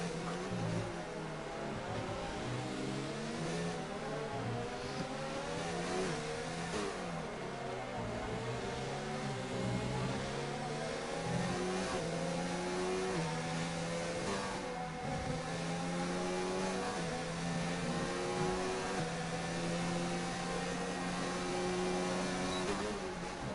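Singapore round of an F2 racing game, several open-wheel race car engines whining and shifting in rising and falling pitch sweeps, steady and loud with overlapping cars.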